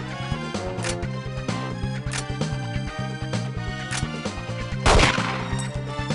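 Gunshots in the video game 007: The World Is Not Enough, a handful of sharp cracks spaced irregularly over a steady game music bed, with one heavier blast near the end.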